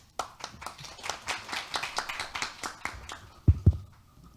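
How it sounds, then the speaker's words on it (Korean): Audience applause at an academic conference session welcoming the moderator, a steady patter of many hands clapping at moderate loudness, ending with a couple of louder close thumps. "박수로 맞아주시기 바랍니다"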